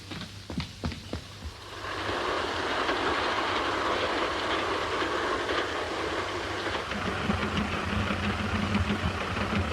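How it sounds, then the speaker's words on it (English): A train approaches and runs past on a railway in a 1936 film scene, a steady loud rumble with clickety-clack rhythm building after a few faint clicks and holding to the end. "Look, I can see the train"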